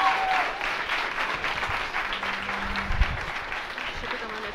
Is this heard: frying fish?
no